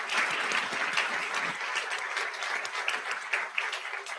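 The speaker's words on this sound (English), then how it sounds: "Let's give these folks another round of applause" Sustained, even applause from a large convocation crowd, many hands clapping densely and continuously at a fairly close distance, with no break throughout.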